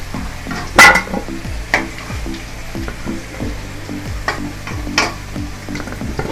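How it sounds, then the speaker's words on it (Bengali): Potatoes fry in a pan until nearly light brown, a continuous close sizzle broken by a loud clatter near the start and several scraping stirs at irregular intervals, with no talk. "আলু প্রায় ভাজা হয়ে গেছে, আমার কালার চলে এসছে আলুর"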